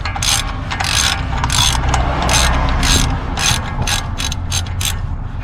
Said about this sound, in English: let us finish removing this screw